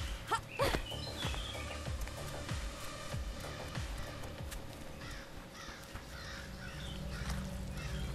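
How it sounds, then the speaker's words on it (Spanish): Crows caw repeatedly in the video game Die Young, with harsh calls scattered across an outdoor ambience alongside soft footsteps and faint other bird chirps. "Muchos cuervos,"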